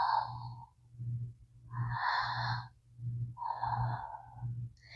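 A woman imitates a pregnant woman's labored breathing, giving slow, heavy, rasping breaths in and out, several rhythmic cycles close up with no other sound.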